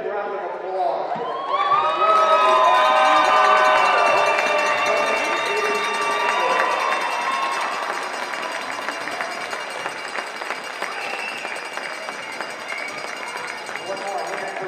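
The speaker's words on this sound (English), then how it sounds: "Let's have a big round of applause for the" A crowd at a state high school hockey tournament breaks into applause and cheering after a brief tonal sound, settling into a steady broadband roar that gradually eases but stays loud to the end.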